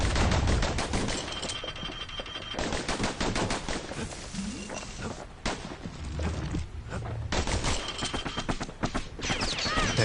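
Dual slinger pistols firing in a video game, loud rapid bursts of gunfire in dense rattling volleys with short pauses between them, close and continuous across the whole stretch.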